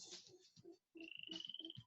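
Several frogs croak in a Costa Rican tropical rainforest, repeated pulsing calls close by, with a steady high-pitched trill running underneath through the second half.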